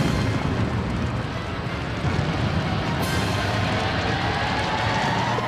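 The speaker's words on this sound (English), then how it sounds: "it's only a matter of time before the steam ignites an explosion" A sustained, roaring blast of a huge crude oil tank boilover explosion, a dense continuous rumble that fills the whole clip without letup.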